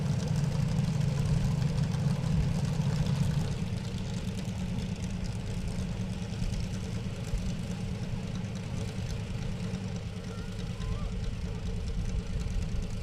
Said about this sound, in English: We'll really applaud them if they'll shut their engines off